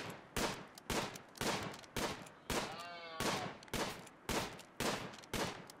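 Gunshots while hunting in the video game Rimworld, a regular series of about a dozen sharp, loud cracks spaced roughly half a second apart, each with a short decaying tail, and a brief whistling tone midway.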